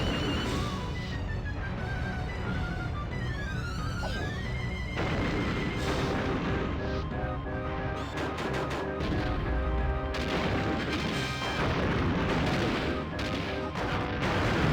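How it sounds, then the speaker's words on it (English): Cannon blasts from the Army Dillo boss battle in Donkey Kong 64, dense booming shots and crashes layered over game music, loud and continuous with no talk. "he's going to fire a few shots."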